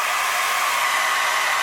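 A hair dryer runs steadily at full blast, a loud, even broadband whoosh held without a break and with no voices over it.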